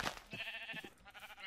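A Minecraft sheep gives a short wavering bleat, fairly faint and alone, in a survival world.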